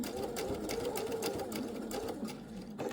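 A sewing machine stitches fabric in a steady, rapid, close mechanical chatter that runs without pause. No one speaks.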